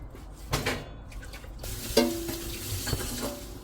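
Food is stir-fried in a pan at close range: a soft sizzle runs underneath while a utensil scrapes and taps against the pan at irregular moments.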